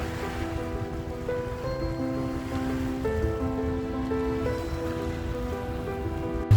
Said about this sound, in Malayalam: വെള്ളം ഇങ്ങനത്തെ അടിച്ചു വരുന്നതാണ്.